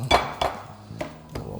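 Scallions are mixed into butter in a pan: four distinct clinks and scrapes of a utensil against the pan, spaced irregularly, close and fairly loud.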